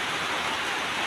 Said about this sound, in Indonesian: Jadi dari tadi subuh di sini hujan deras ya teman-teman.